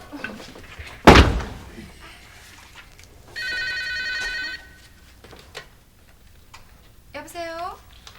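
A telephone bell rings in a late-1980s Korean TV drama, one clear burst of ringing in the middle after a loud door slam, with a second short electronic trill near the end; no talk over it.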